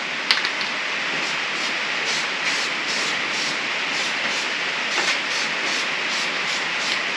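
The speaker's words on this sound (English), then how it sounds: "He said just spray a nice even coat" An aerosol can of gasket sealant sprays a head gasket for a Generac GP3600 generator in a continuous loud hiss that lasts the whole time, with a few tiny clicks at the start.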